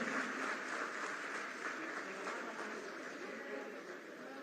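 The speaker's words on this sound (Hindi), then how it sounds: "जोरदार तालियां हो" An audience applauds at an ITI skill college inauguration and appointment-letter ceremony, a soft, distant wash of steady clapping that holds evenly and fades slightly near the end.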